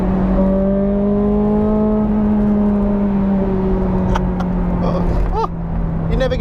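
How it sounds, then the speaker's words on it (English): A Ferrari 430 Scuderia's high-revving V8 climbs and holds a sustained, trumpeting note, then drops off with a few sharp exhaust pops and crackles near the end. "it's got that same trumpet feel that the Challenge Stradale's got. That sort of second stage exhaust"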